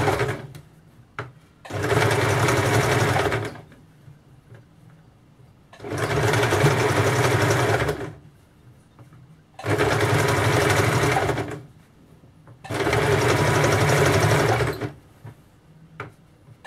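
A sewing machine stitching a blouse runs in four separate bursts of steady, close mechanical whirring, each lasting about two seconds, with quiet gaps between them.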